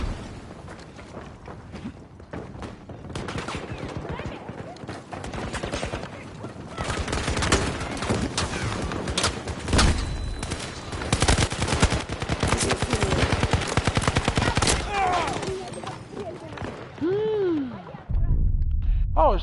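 Incendiary rounds firing in Battlefield 2042, rapid dense bursts of automatic gunfire running almost the whole stretch, loud and close, with game sounds and some voice mixed in.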